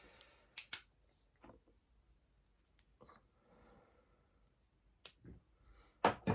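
Scissors snip fishing line short while spooling a rod with mono backing, a few quiet, sharp clicks and cuts scattered across a near-silent room.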